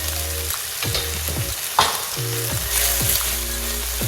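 Kimchi frying with onions, scallions and garlic in a pan, a loud steady sizzle broken by repeated scraping stirs and one sharp clack near the middle.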